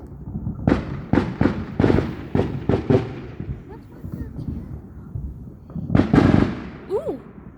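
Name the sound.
fireworks exploding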